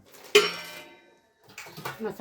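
Metal kitchen utensils from a new kitchen set, pots, pressure-cooker vessels and bowls, clank sharply once as they are handled, followed after a pause by lighter clinks and rattles, with voices talking nearby.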